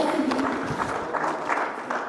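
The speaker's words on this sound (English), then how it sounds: "Please give them a round of applause, ladies and gentlemen." Round of applause from an audience at a youth conference in Nigeria, a steady wash of clapping with a faint voice mixed in, moderately loud and close.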